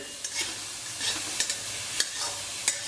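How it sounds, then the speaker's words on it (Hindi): Onions stirred in a pan give a soft, even sizzle broken by sharp scrapes of the spoon against the metal at irregular intervals, close and fairly quiet, with no voices. "प्याज डाल दिए हैं, देखिए आप, और इनको चलाते रहना है क्योंकि ये कहीं चिपक न जाए।"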